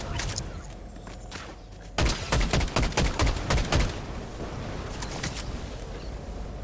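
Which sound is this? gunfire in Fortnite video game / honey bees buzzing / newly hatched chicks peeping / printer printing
gunfire in Fortnite video game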